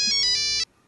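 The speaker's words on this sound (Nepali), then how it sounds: "राजेश अमालजीको फोन आयो।" An electronic phone ringtone sounds for an incoming call, a bright repeating melodic tone loud and close for about half a second before cutting off into silence.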